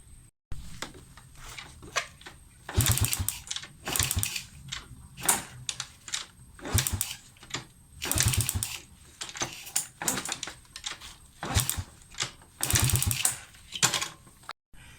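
A motorcycle ignition coil sparks during a wiring test, giving sharp, close crackling snaps in irregular clusters over about fifteen seconds with no talking.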